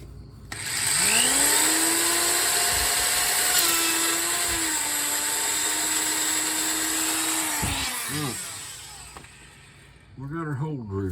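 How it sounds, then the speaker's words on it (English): A worn-out old power drill boring a hole while working on an 85 S10 Blazer, a loud, steady whining motor drone that holds for several seconds and then winds down, with people talking over it. "We got our hole drilled."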